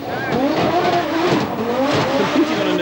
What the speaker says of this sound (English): Delta S4, interestingly with both turbocharger and supercharger.